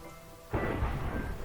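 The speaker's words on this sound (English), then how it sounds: "There's a thunderstorm right there" A storm from a Minecraft localized weather mod rolls in as a sudden, loud rumble of thunder that breaks over faint background and carries on with steady rain noise.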